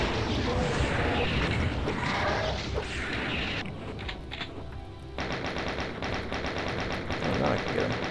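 Chaingunner enemies fire nonstop on a Doom map from Realm of Intensified Chaos, a loud, dense, rapid rattle of automatic gunfire with mechanical clatter that fills the whole stretch and barely eases.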